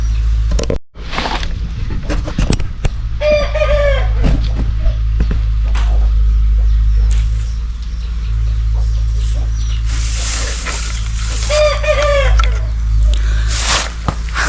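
Chickens cluck in two brief bursts over a steady low hum and rustling outdoor noise.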